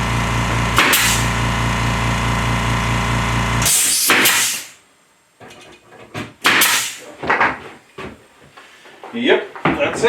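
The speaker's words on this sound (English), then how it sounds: "So I'm going to take out the screws now." A power tool backing screws out of a wooden trapping sleigh whirs in a loud burst for several seconds, followed by short clunks and knocks of parts being handled.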